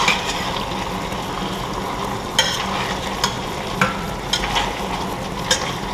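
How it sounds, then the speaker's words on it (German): A spoon stirs chicken paprikash in a pot, with a soft simmering sizzle underneath and a few distinct scraping clinks. The sound is close and moderate, and nobody speaks. "Zwischendurch wieder mal hier unserem Paprika rühren"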